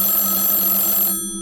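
Electronic telephone ring from the horror game Everlasting, a steady bright trilling tone heard alone and close, cutting off abruptly near the end.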